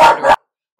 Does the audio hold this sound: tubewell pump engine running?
no